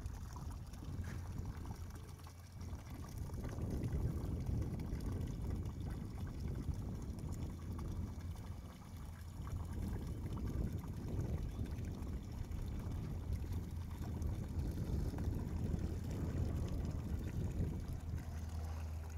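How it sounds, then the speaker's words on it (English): Bloody tuna juice poured from a bin into the sea off a boat, a continuous splashing and gurgling of liquid into water lasting many seconds, fairly near, with a low steady engine hum beneath and no talking. "I'm gonna put some of the juice into the water to hopefully get the sharks interested."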